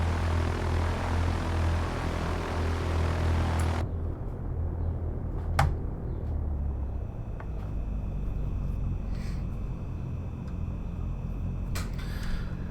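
Cessna propeller engine in a flight simulator, a continuous droning hum that drops in level partway through and carries on steadily, with faint clicks and no talking.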